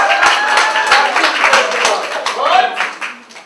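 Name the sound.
round of applause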